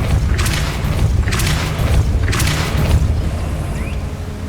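Spell-casting effects from the video game Hogwarts Legacy: three loud, booming magical blasts spaced roughly a second apart, each a sharp burst over a steady low rumble of game ambience.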